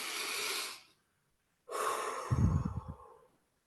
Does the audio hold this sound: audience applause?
no